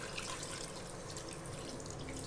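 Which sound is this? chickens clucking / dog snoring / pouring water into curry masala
pouring water into curry masala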